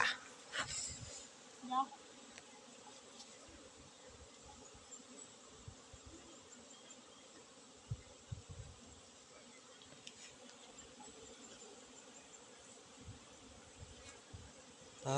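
Bees buzz steadily in a faint, close hum while gathering honey, with scattered knocks and brief voices breaking in now and then.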